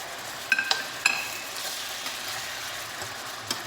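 Mushrooms added to a pan of soy sauce simmering with meat for a salad: a few light clicks and taps early on, then a quiet, steady bubbling hiss.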